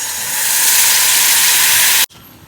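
Water poured into a hot pan of spice powders (coriander, garam masala and chicken masala) gives a loud, steady hiss that swells briefly, then cuts off abruptly near the end, with no voices.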